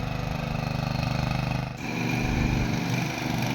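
A tractor engine, fitted with wheels for paddy-field mud in Konkan farmland, chugs steadily nearby, its rapid rhythmic throb dipping briefly midway before continuing just as loud.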